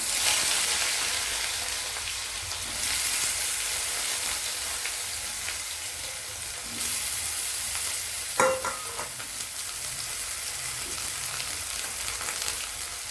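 Eggplant pieces fry in oil in a home kitchen pan, giving a steady broadband sizzle throughout with a few brief louder crackles and utensil touches near the middle, close and fairly loud.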